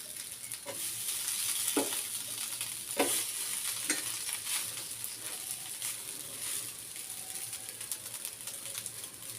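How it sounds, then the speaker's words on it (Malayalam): Bread frying in a pan for a plain egg and bread roast, a steady close sizzle with a few sharp scraping stirs and clinks over it. "നമുക്കിത് ബ്രെഡ് ഒന്ന് പൊരിച്ചെടുക്കാം"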